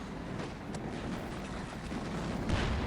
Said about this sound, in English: Firefly doing a nice shot there on side armor of the Panzer IV.